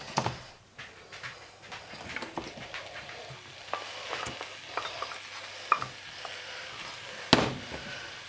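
Par-cooked potatoes stirred into a ham and meat mixture in a pan over heat, with irregular scraping and clatter of a utensil against the pan over a low sizzle, close and without talk.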